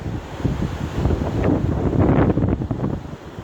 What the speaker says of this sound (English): The wind feels good though.